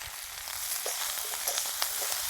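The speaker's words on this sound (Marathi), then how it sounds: "याच्यामध्ये घालू शेंगा शिजायला चवीनुसार मीठ।" Drumstick pods frying with salt in a hot pan with a little oil, a steady close sizzle with faint scraping clicks of stirring.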